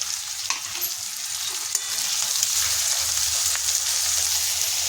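Cloves, peppercorns, a bay leaf and cardamom go into a hot pan, giving an even, close frying sizzle with small ticks and stirring scrapes, growing slightly fuller toward the end.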